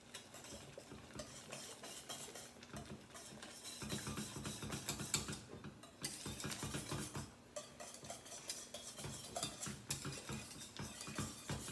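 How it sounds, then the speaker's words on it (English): A spoon stirs reduced-sugar caramel pie filling in a pot, making repeated scraping and clinking strokes against the metal in an uneven rhythm, close and alone with no talking. "So I'm just going to stir this until it's about the consistency of pudding."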